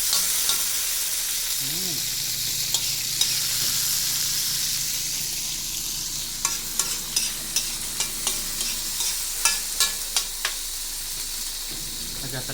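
Onion and garlic frying in a pan for monggo, a steady sizzle with a run of spoon or spatula taps against the pan as the pieces are stirred.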